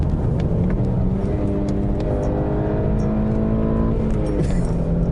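A BMW E90 320si's engine revs steadily while driving on the road, its loud sustained drone climbing and falling in pitch through the run, close and continuous with no talk over it.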